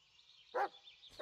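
A single short bark from Bullet the dog in the horror video game Blair Witch, sharp and fairly close, standing out once over a quiet ambient hum, with another faint sound starting at the very end.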